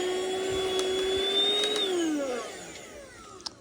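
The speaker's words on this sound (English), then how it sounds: "This is the mattress vacuum" A handheld mattress vacuum cleaner with a UV light runs with a steady motor whine that rises slightly, then drops in pitch as it winds down and fades, with a small click near the end.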